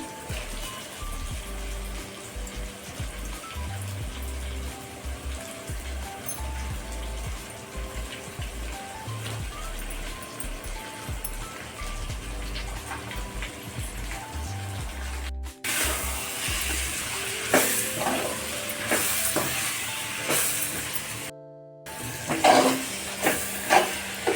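Shrimp hit a hot pan with tomato and salt for a Tamil shrimp thokku, and a loud steady hiss and sizzle builds partway through, crackling and close, with clattering bumps earlier.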